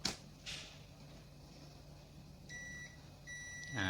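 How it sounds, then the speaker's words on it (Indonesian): Two short electronic beeps from a continuity tester checking a switch sound in quick succession near the end, quiet and high-pitched, after a couple of soft clicks. "Nah jadi ini bunyi beep, ini artinya saklarnya"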